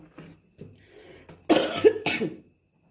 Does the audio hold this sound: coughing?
yes